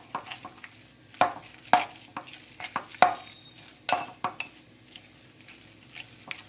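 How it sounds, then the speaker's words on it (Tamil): A spoon scrapes and knocks against a pan as mutton keema mixture is stirred and mixed, a series of distinct close clacks and scrapes over a faint low sizzle, with no talking. "எல்லாத்தையும் போட்டுட்டு நல்லா மிக்ஸ் பண்ணிக்கலாம்."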